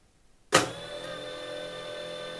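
FIMI X8 Mini V2 drone motors whir up abruptly after a half-second of silence, settling into a steady, high-pitched electric hum that continues evenly to the end.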